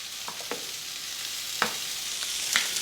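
Red pepper and cabbage sear in a hot pan with a steady broadband sizzle, broken by a few sharp crackles and spatters, fairly quiet and continuous with no voices over it.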